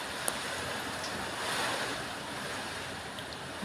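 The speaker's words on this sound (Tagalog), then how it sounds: "Malakas ang hangin dyan sa likod." Strong typhoon wind gusting behind a house in Laguna, a broad continuous roar with a swell in the middle, steady and unbroken with no talking.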